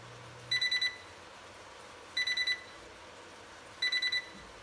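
A Breville Smart Oven Air signals the end of its cycle with a quiet electronic alert: three groups of four quick high beeps, each about a second and a half apart, over a faint background hum.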